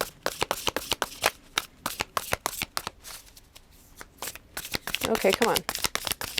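Tarot cards are shuffled in quick, crisp riffling bursts, close and loud, with a short pause midway and a brief spoken aside near the start.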